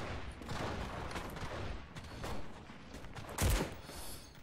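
Gunfire in the video game Enlisted during a Battle for Berlin match, bursts of rapid shots and a louder blast near the end, moderately distant and quiet.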